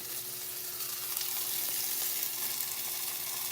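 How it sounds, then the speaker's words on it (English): Steady, crackling sizzle of banana pancake batter frying in a hot pan, soft and continuous with a faint hum underneath. "It's sizzling on the side."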